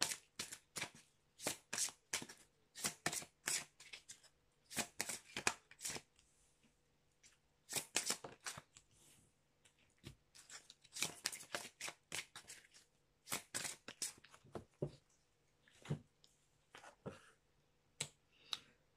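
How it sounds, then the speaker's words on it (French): Oracle cards being shuffled by hand in quick riffling bursts, crisp and close, separated by short pauses in an otherwise quiet room. "j'ai pris l'oracle des artisans de lumière"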